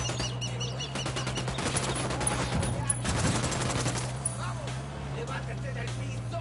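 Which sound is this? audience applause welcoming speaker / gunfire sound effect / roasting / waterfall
gunfire sound effect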